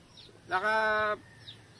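A single drawn-out hen call rings out clearly for about half a second, set against quiet surroundings with faint chirps on either side.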